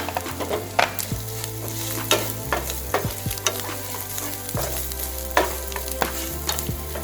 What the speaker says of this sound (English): Now add coconut and roast it a little bit.